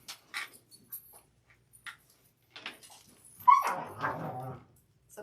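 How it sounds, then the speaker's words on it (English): Two dogs wrestling indoors, giving scattered short whimpers and yips that build into a louder, drawn-out whining cry near the end, close by and with no talk. "My dogs are wrestling."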